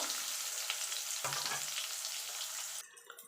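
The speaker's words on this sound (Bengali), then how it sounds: "বেগুনটা লাল লাল করে ভেজে তুলে নেব" Eggplant frying in hot oil gives a dense, close crackling sizzle, with a brief stir or movement partway through, then cuts off sharply near the end.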